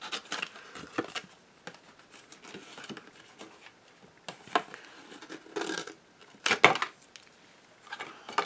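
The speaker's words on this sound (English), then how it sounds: "I'm just going to fussy cut these out" Scissors fussy-cut small present shapes out of a recycled Christmas card: quiet, intermittent snips and paper rustles with short pauses, one louder burst of cutting near the end.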